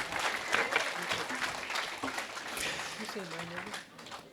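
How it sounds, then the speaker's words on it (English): Banquet audience applauds steadily at a hall of fame dinner honoring a sportscaster, dense clapping filling the room with a few faint voices mixed underneath. "Big round of applause for"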